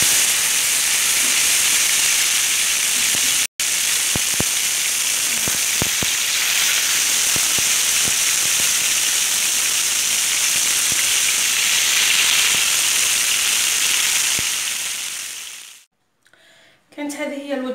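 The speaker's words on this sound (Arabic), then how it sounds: "هنا الزيت راهو سخون بزاف بزاف راح نزيد ونزيد نحطهم كيما هما هكا ونحطهم مباشرة في الزيت" Scallops dropped straight into very hot oil, giving a loud, steady close-up sizzle and hiss with small crackles throughout, before the frying cuts out near the end.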